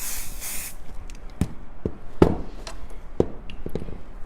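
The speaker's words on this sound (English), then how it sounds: "So now what I'm gonna do is I'm gonna spray it." A spray can hisses in a short burst onto a quilt top marked with Sharpie lines, followed by a few scattered taps and light handling sounds close by.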